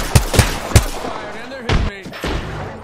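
Gunfire in an online shooter game, a few sharp loud shots in quick succession early on and then further bursts, with a player's voice talking over it.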